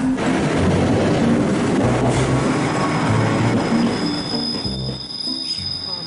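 A train rumbles past on the rails, loud and steady, with metallic squeals ringing high above the rolling clatter of wheels.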